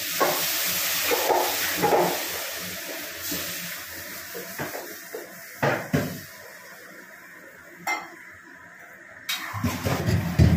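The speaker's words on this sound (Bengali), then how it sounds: "এবার এর মধ্যে আমি জল দিয়ে দেবো, আর একটু নাড়াচাড়া করে নিই।" Water is poured into a pan of mango chutney and stirred, giving a hissing, sizzling wash at first, then scattered scraping knocks and splashes of a spoon against the pan, moderately close.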